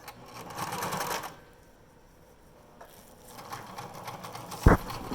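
A sewing machine stitching a pleated fabric face mask, a steady buzzing run of stitches that stops briefly, then resumes more softly, ending with a sharp knock.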